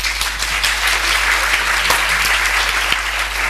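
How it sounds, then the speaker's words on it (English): Loud, close applause from an audience thanking a speaker and moderator after a Q&A on culture and city marketing; dense, continuous clapping with a few sharper individual claps standing out. "big round of applause for both of them"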